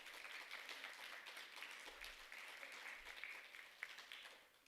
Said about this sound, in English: Let's give all of our spellers a big round of applause.